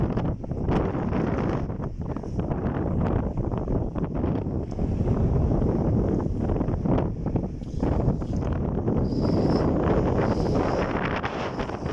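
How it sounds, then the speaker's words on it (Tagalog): Strong seaside wind buffets and roars across the microphone continuously, loud and gusty, with a soft rushing wash underneath and no clear voices. "Maganda ang simoy ng hangin."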